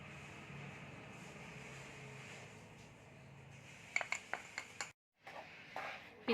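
A spoon scrapes and clinks against a kadai while almond paste and powdered sugar are stirred together, with faint, close clinks near the end over a low background hum.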